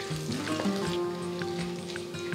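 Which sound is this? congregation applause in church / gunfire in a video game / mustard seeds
mustard seeds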